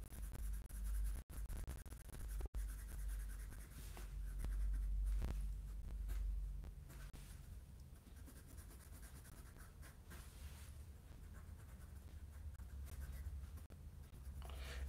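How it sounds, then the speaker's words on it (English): Pencil sketching a car on paper with quick strokes, producing a continuous close scratching and rubbing that runs steadily with small swells and no talking. "Very quick sketching."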